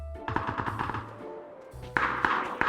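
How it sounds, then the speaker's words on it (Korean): Gunfire in the PUBG video game: a short burst of rapid shots, a pause, then a few louder single shots, fairly close and heard alone. "어디서 쏘는 거야?"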